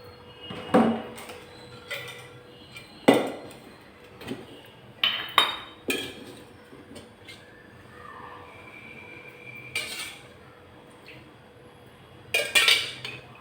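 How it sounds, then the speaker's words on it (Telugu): A wok-style pan is set down on a stove for cooking prawn and raw mango pickle, with several sharp metallic clinks and clatters spaced apart, followed by a faint sizzle as oil goes in. "ముందుగా బాండీ పెట్టి నూనె పోద్దాం."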